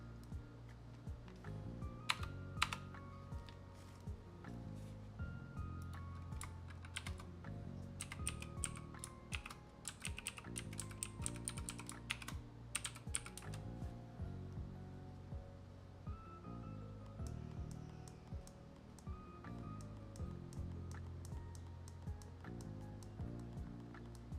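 Fingers type on a clacky computer keyboard, a steady run of crisp clicking keystrokes with denser bursts, heard close over soft background music.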